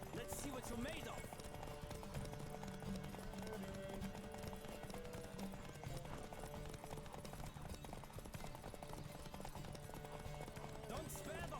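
Horse hooves clip-clop in a rapid galloping rhythm in The Witcher 3 video game, steady and continuous under game music and ambience.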